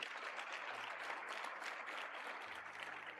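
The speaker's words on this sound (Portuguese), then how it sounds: "Pode aplaudir Jesus." Congregation applause at a church service fills the whole stretch with steady, dense clapping from many hands, loud and even throughout, with no talk over it.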